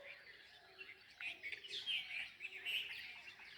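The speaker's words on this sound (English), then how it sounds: "There are a lot of birds, small birds, sparrows, chirping, singing, dancing, moving around" Small birds such as sparrows chirp and sing among flowers, several quick tweets and short calls overlapping at moderate distance with no talking.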